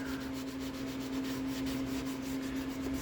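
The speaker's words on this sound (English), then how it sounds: "wet sanding primer" Wet sanding of primer on a Mandalorian helmet: a steady, continuous rubbing hiss with a faint tonal hum underneath, close and even throughout with no talking.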